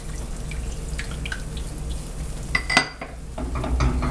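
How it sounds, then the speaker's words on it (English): A spoon working stock into thick gravy in a pot, soft scraping and wet stirring sounds with a few brief clinks against the side, moderately close over a low kitchen background hum. "And I'm going to stir this in."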